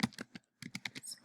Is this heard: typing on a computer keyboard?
yes